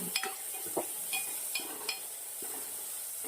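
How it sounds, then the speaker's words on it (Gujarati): Brinjal frying in oil with turmeric and salt, a steady sizzle broken by a few sharp clinks and scrapes of stirring, close by with no talk. "રીંગણાને તેલના અંદર શેકી લેવાના છે."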